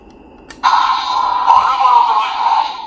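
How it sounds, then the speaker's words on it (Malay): A DX Gotcharigniter transformation toy from Kamen Rider Gotchard plays its Valhalla Driver sound effect, a loud electronic burst that starts abruptly and holds steady for a couple of seconds, close to the microphone. "Jadi itu bunyi Valhalla driver."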